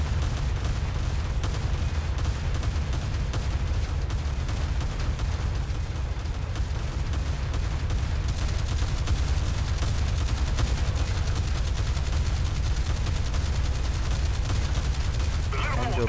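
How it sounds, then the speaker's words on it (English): Warship main guns fire continuously in a naval combat video game, a dense, unbroken roar of gunfire and heavy low rumble that persists at steady loudness throughout. "When you're firing torpedoes, don't stop firing the main guns."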